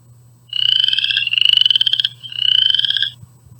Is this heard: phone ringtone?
no